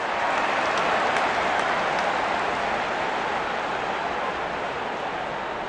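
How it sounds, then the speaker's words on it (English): Steady, dense crowd cheering and applause fills a stadium in the cricket video game Real Cricket 24, an IPL match between SRH and RR, holding at a constant loud level throughout without clear speech. "Such a wonderful crowd in to watch their favorite players."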